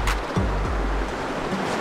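Strong ocean waves crash and churn at a rocky cave shore in Mauban, Quezon, a loud continuous roar of surf with a heavy low rumble, near and with no one speaking.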